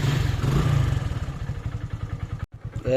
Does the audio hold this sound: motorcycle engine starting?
yes